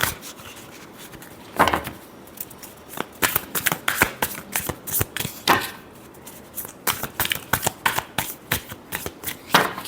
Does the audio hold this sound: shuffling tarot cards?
yes